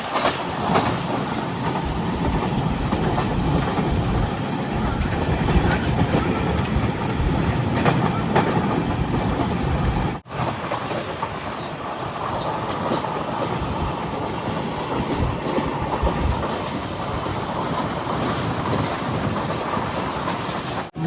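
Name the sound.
Matsyagandha Express train arriving at Kundapura station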